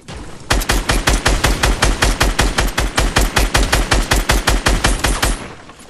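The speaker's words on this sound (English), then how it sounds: "Sam, gotta shoot this down." Rapid automatic gunfire in a video game shooting match: a steady, fast stream of loud, evenly spaced shots running for about five seconds, close and alone with no talking.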